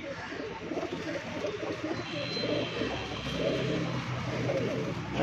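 Pigeons cooing on a rooftop, repeated low throaty coos layered over one another, fairly close and continuous, with faint background voices and noise.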